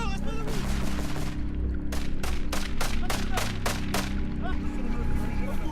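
Combat gunfire from soldiers and artillery guns during heavy clashes with rebels in Mali, a rapid burst of about eight sharp shots over a dense, rumbling wall of continuous battle noise, with a voice speaking underneath.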